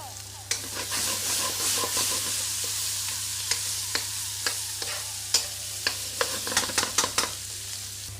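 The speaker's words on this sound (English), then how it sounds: "Now that's the ginger and garlic, which I'll be placing into the pan with onions." Ginger, garlic and onions frying in a pan, a steady close sizzle running throughout with sharp stirring clicks and scrapes that come more often toward the end.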